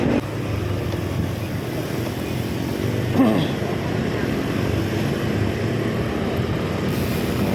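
A motorcycle rides along the road toward Malabon Pet Market, with its engine and road noise forming a continuous, steady drone and wind rushing over the microphone.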